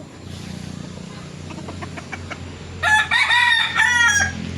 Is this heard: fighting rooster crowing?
yes